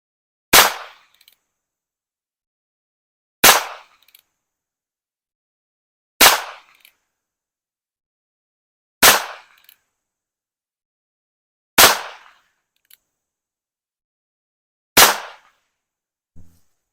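Suppressed .22 Single Action Army revolver fired six times at slow, even intervals about three seconds apart, each a sharp close crack with a brief tail and silence between shots.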